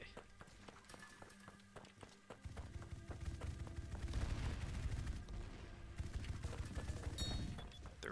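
Bursts of automatic gunfire and footsteps from a Roblox Merc Fleet shooter match, loud and busy in the foreground, with a player's voice heard faintly over the action.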